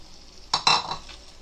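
Masoor lentils being stirred and roasted in a pot for a Konkani-style egg pulao: two quick scraping strokes close up, a short burst of rasping and light clinks over faint background.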